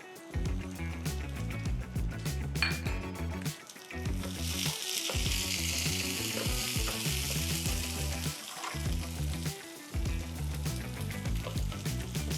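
Tomatoes frying in about two spoonfuls of oil in a pan, a steady close sizzle that goes on for the whole stretch, with a few stirring scrapes and short breaks in the crackle.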